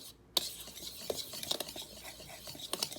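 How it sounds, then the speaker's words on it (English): Dry pancake ingredients, flour, cinnamon and baking powder, are stirred in a bowl, giving soft continuous scraping and rubbing with a few sharp clinks of utensil against bowl, close and fairly quiet. "I'm then going to mix all of my dry ingredients up."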